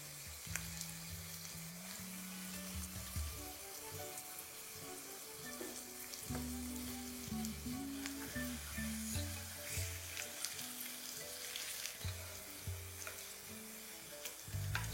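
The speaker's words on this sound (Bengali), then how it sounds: "একদিকটা মোটামুটি আপনাদের কুক হতে বা একদম শ্যালো ফ্রাই করতে সময় লেগে যাবে ধরে নিন 4 থেকে 5 মিনিট।" Potatoes coated in cornflour shallow frying in a pan give a steady, moderate crackling sizzle throughout, with some watery, tap-like background noise mixed in and no speech.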